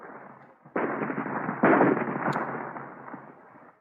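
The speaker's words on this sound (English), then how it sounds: "They have found the range, Commander. You may fire. Fire!" Radio-drama sound effect of weapon fire blasting a rock: two sudden, loud blasts in close succession, each swelling into a dense, rumbling roar that slowly fades.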